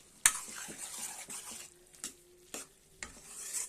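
A spoon stirs a tomato and broad bean curry cooking in a pot, with several soft scraping strokes and light clinks over a faint sizzle, close up with no voices.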